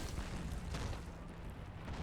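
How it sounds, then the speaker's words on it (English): Distant explosions in a large Men of War battle, played with the RobZ Realism mod, form a faint, continuous low rumble with a few dull booms, quiet and without any talk. "Some more explosions over here, lots of smoke pillars."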